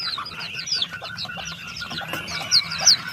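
Nine-day-old chicks and chickens of Rhode Island Black, Australorp and native breeds cluck and cheep close by in short, scattered bursts, with a few higher peeps standing out.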